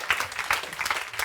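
Church congregation applauding during a Sunday sermon on the Holy Spirit, a brief burst of dense clapping at moderate level with faint voices mixed in.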